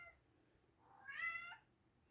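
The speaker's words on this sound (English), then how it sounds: "My cats have a lot to say today. Can you hear that?" House cats meow in a single short call, faint and somewhat distant, rising and fading over about half a second against a quiet indoor room.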